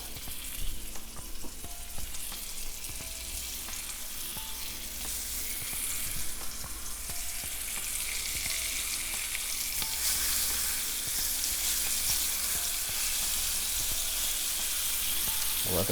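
Peach halves frying in a pan alongside pork chops, a continuous close sizzle that grows louder and hissier partway through, with faint clinks of utensils and no talking.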